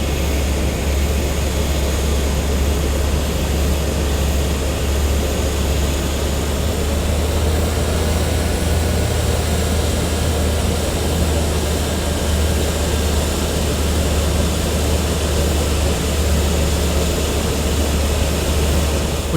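A Cessna F406 Caravan II's propeller engine taxiing in Microsoft Flight Simulator 2024 gives a steady, loud, continuous drone with a deep rumbling hum beneath, holding an even level throughout without any talking.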